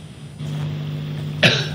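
A single sharp cough bursts out near the end, close and loud, following a steady low hum in an indoor setting.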